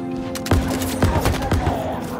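Gunfire in Halo Infinite: a loud, close burst of rapid shots, roughly five sharp cracks spaced about half a second apart over a continuous rattling bed.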